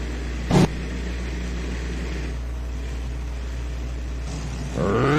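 A 903 Cummins V8 alcohol-fuelled pulling truck rumbles at a steady idle outdoors, a low continuous drone with a brief sharp burst early and a rising rev near the end.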